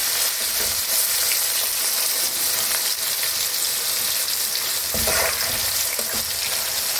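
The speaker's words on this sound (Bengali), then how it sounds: "এবার আমি এই তেলের মধ্যেই ডুমডুম করে কেটে রেখেছিলাম আলু" Diced potatoes fry in hot oil with a loud, dense, steady sizzle that fills the whole stretch, with a few brief surges of crackle as pieces shift in the pan.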